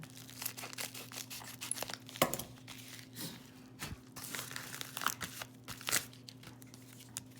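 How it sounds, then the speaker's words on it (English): A mail package being cut open, with faint crinkling, tearing and scraping of cardboard and packing material, a few sharper crunches scattered through the quiet handling. "Let's cut this open."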